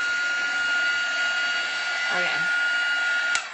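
A small handheld craft dryer blows air to dry paint, making a steady, close whir with a high whine that runs through the whole stretch, while a voice speaks briefly over it.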